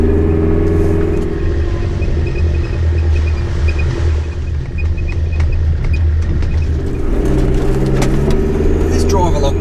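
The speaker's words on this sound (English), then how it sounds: "This drive along Bluff Track, it's not overly difficult, but it's just slow going all the way through to Howitt High Plains." A four-wheel-drive vehicle crawls slowly along rough Bluff Track in the Victorian High Country toward Howitt High Plains, a loud, steady low engine rumble heard from inside, with faint rattles and occasional knocks throughout.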